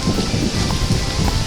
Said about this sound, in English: it's pouring, it's raining, it's thundering, it's lightning, Mount Pleasant Pier